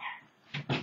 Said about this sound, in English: The dogs went crazy.